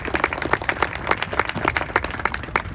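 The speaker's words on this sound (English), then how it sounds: "a round of applause for Scott Wentworth" Attendees at a Highway of Heroes tree campaign ceremony in Trenton clap for a garden designer, a modest crowd of distinct, close hand claps forming a steady rippling applause.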